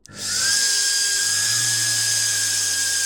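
A washing machine motor wired to a power drill's trigger switch spins up with a steady, loud electric whine that holds at a constant pitch for about three seconds after a brief start, with no talking.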